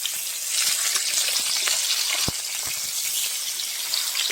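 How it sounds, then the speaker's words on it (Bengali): Rui fish pieces, just flipped, sizzle in hot oil in a village kitchen pan: a steady bright crackle with scattered pops and a sharper spit near the middle, close and continuous with no talk. "এবার আমি মাছগুলো উল্টে দেবো, মাছের পিসগুলো"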